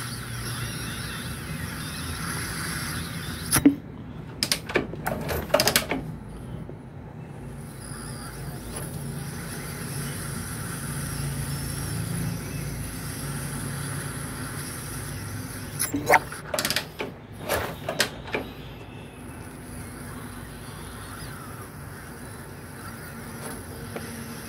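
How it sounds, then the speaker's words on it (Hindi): Motorcycle engine with a leaking exhaust valve, kick-start lever held under compression, giving a low steady mechanical hiss and creak with a few sharp clicks and knocks in two clusters, close and fairly quiet. "आपने भी जैसे कि सुना कि इसमें किस तरह की आवाज़ आ रही थी, यानी कि मेरी गाड़ी का जो एग्जॉस्ट वाला वाल्व है वो लीक"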